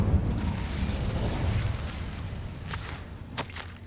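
Incendio fire spell cast in Hogwarts Legacy, a rumbling, roaring whoosh of flame that swells and sustains, followed by a couple of sharp snapping bursts, loud and close.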